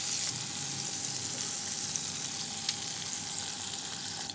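Chicken pieces for Indonesian sweet and sour pineapple chicken fry in hot oil, a dense, steady crackling sizzle that is close and constant with no talking.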